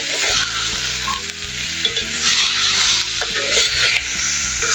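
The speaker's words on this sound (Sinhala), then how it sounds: "එකතු කරගෙන මේ විදිහට හොඳට කලවම් කරගන්න" Blackened chicken pieces are stirred and tossed in a sizzling frying pan, with a steady loud fry under scraping and clattering of the spoon against the pan, with no voices.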